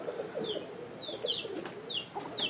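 Roller pigeons coo softly in a low, repeated pattern close by, mixed with a few brief higher chirps from other birds against quiet outdoor air.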